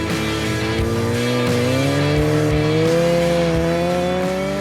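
Turbocharged motorcycle on a speed run at the Bonneville salt flats, a loud sustained engine drone whose pitch climbs steadily as it gains speed, with no talk.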